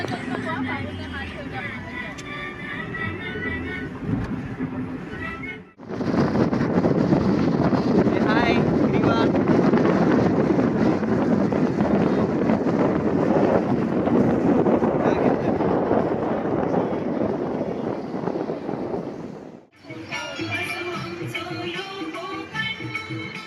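Morning air rushes through a lowered car window on a rainy-season drive through the Konkan countryside, a loud, steady broadband roar lasting about fourteen seconds, with quieter road and cabin sound before and after.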